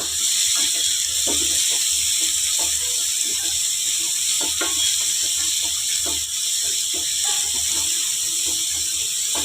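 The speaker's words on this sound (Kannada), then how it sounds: "ಈರುಳ್ಳಿ ಹಾಕ್ಕೊತೀನಿ ಚೆನ್ನಾಗೆ ಫ್ರೈ ಮಾಡ್ಕೊಳ್ಳೋಣ" Chopped onions and cumin seeds frying in oil for a restaurant-style okra curry, a loud continuous hiss with faint scraping stirs underneath, no talking.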